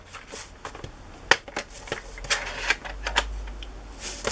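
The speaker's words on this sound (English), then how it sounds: "Score it so I can fold it." Paper being scored for folding during journal-making produces a series of light, irregular scratchy clicks and taps, close and fairly quiet, with no talk.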